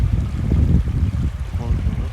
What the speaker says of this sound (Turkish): Dere bir harika.